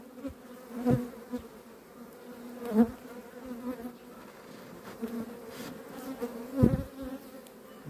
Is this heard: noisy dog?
no